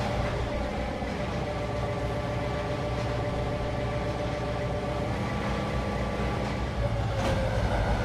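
An inbound Norfolk Southern freight train in the Trainz 2022 railway simulator, a steady, dense rumble and rolling rattle that holds constant throughout, with a brief brighter metallic squeal near the end.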